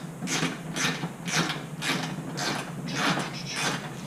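Ratchet wrench loosening 8mm bolts on the plastic front bumper of a 2-door Jeep Wrangler JL, with rapid rhythmic clicking strokes repeating steadily and close up throughout.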